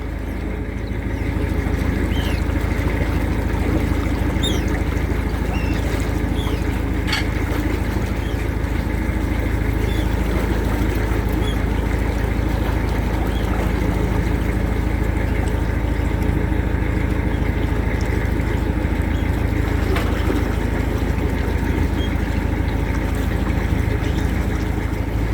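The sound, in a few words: boat engine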